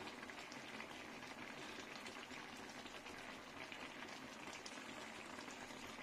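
A pot of ridge gourd curry with potatoes simmers at a full boil on a stove, giving a faint, steady, continuous bubbling with no pauses.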